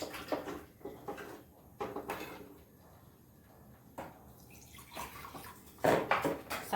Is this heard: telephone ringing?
no